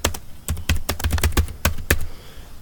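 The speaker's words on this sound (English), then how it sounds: "And you can type, here's my thread," Fingers type on a computer keyboard in a close run of quick, uneven key clicks for a couple of seconds, with short pauses between bursts and no voice over them.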